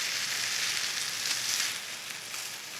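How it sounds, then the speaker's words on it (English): Ingredients coated in butter sizzle in a cast iron pan over a campfire, producing a loud, continuous bright hiss that eases slightly near the end; no individual stirring strokes stand out and no one speaks. "So now I'm just going to kind of stir this around"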